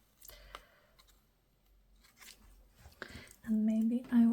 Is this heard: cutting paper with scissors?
yes